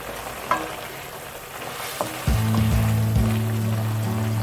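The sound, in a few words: tuna filling cooking in a pan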